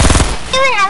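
Gunfire in the video game Fortnite on PS4, a loud burst of rapid automatic shots in the first half followed by a brief tonal game effect, with a voice faintly present.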